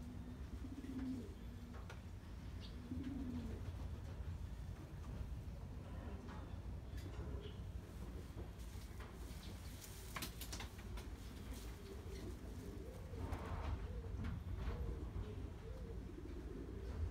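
A medium-large racing pigeon, a grey cock beginning to moult, gives a few soft low coos against a quiet room hum, with faint handling rustles and small clicks nearby.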